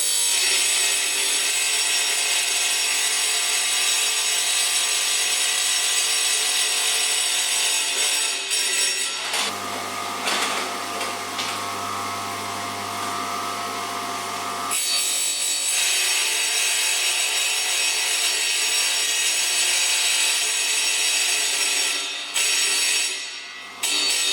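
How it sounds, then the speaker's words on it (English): A tile saw's blade grinds steadily through a kitchen splashback tile, a loud continuous whine that shifts to a lower cutting tone for several seconds midway before returning to the bare motor drone. "So we're just going to push the tile into the blade gently."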